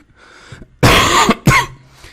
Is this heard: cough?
yes